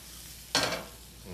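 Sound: chilies, ginger and potatoes sizzling while being stirred in pan

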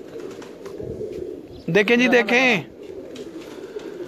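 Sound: pigeons cooing, F16 Joker cross breed

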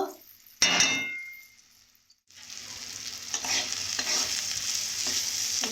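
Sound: frying crab with spices in a pan

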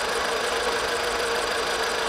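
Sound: car engine struggling at low idle

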